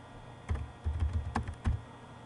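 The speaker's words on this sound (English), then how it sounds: "I'll type it in." Keys clack on a computer keyboard in a short burst of typing, a handful of close, distinct taps over a quiet background hum.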